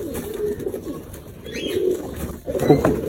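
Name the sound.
pigeon cooing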